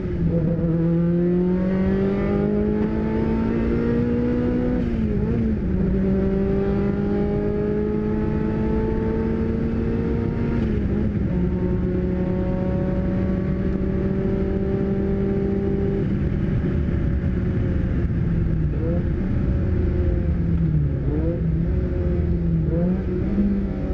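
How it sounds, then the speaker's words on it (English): A Ferrari Formula 1 car's engine screams at full throttle down a straight, a loud continuous high-revving wail with rising pitch sweeps as it climbs through gears, steady and close throughout with no talking. "Here's full throttle sound at straight."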